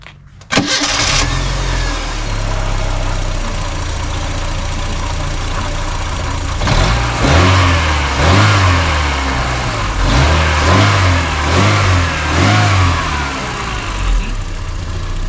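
A Seat Ibiza SXI starts with a quick crank and catch, then idles loudly and steadily before being revved in a series of rising, rhythmic blips, close up with no speech.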